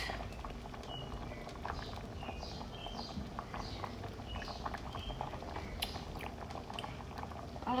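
Jamaican stew peas slow-cooking in a pot, a steady low bubbling simmer with soft pops and gurgles running throughout, fairly close, with a faint clink near the end and no talking.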